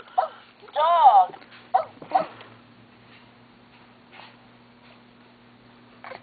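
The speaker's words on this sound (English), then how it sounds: "Dog." A dog barking and yipping in a home, a few sharp close barks and a whimper near the start, then fainter scattered yips, with a steady low hum underneath.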